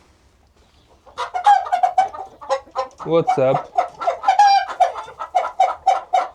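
Chickens cluck busily in a chicken house on a small farm, close and loud, with rapid repeated clucks and a longer squawk midway, while a voice speaks briefly.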